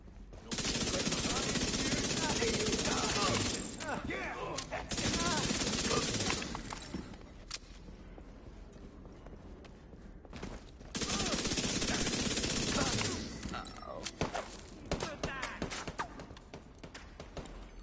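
Rapid automatic gunfire in the video game Back 4 Blood, loud dense bursts lasting several seconds each, separated by quieter stretches with scattered single shots and game sounds.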